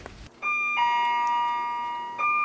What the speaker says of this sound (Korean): 그날 저녁 정적을 깨뜨리는 경쾌한 초인종 소리.